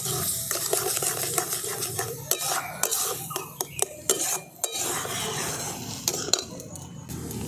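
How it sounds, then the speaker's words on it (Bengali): A utensil scrapes and clatters against a pan as grated carrots are stirred in ghee for a carrot sweet, making a busy, uneven rhythm of rasping strokes and sharp taps with faint sizzling. It is close and there is no talking. "এই ঘিয়ের সাথে আমি গাজরটাকে একটু ভালো করে নেড়ে নিচ্ছি"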